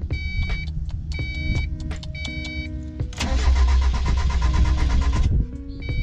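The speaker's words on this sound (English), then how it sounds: "push in the clutch, turn the car on, make sure we're in neutral, and give her a crank" A 1990 Mazda Miata's engine cranks without catching, a loud starter whirring for several seconds with no fuel reaching it, close by and alone, with some clicks and electrical tones before it.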